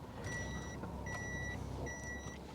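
Three evenly spaced electronic reversing beeps come from a 2013 Daihatsu Move Custom, fairly faint over a low street and engine background.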